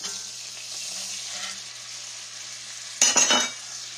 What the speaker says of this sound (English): We're going to put that in and we're going to stir it around a little bit.